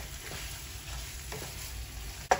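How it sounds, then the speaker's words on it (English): Ground beef, chorizo and onions sizzling in a pan while being chopped and stirred, a steady frying hiss with soft scraping strokes and a sharp utensil clack near the end. "So just chopping up our ground beef to try and get it ground up and mixed and marry with the chorizo and onions"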